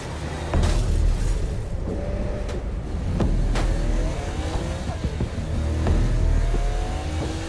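A car engine roars continuously in Saints Row: Gat out of Hell, loud and close, rising and falling in pitch as it revs and accelerates, with occasional sharp bangs.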